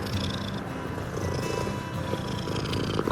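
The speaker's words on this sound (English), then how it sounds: "Quite a purr you got going there." A rescued cat purrs steadily up close, a continuous low rumbling throb lasting the whole stretch with faint background noise and no speech.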